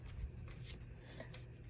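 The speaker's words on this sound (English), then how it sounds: "I'm going to cut a little bit off of here" Scissors snip paper in a couple of quick, soft, close cuts, short crisp strokes over a quiet background with no talk.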